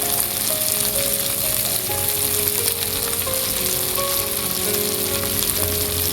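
Onions sizzle loudly and evenly in a pan for a moong dal and fish head muri ghonto, with a constant crackling fry and no talking.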